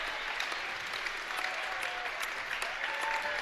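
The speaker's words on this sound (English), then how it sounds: "Nice round of applause here for seniors on senior night" Home crowd at a high school boys basketball game on senior night clapping steadily for the seniors, sustained applause filling the gym with a few whistles and faint shouts mixed in.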